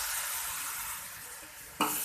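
Mashed eggplant frying with spices in a hot pan gives a steady, even sizzle, close and unbroken. It ends with a sudden sharp burst of spattering.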